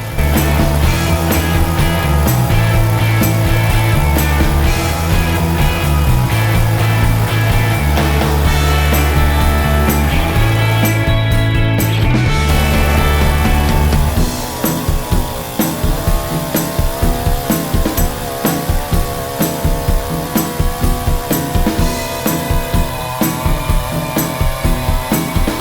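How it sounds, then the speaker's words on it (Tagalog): A heavy chainsaw roars loudly and continuously, its engine pitch stepping up and down before it settles into a steady, harsher buzz as the chain bites into a log. "Then, begin to let the chains touch the log to cut it."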